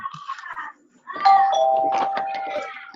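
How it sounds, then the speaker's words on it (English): A doorbell chimes indoors with a few ringing tones, clear and fairly close, against a quiet room. "What's that doorbell? You guys hear that?"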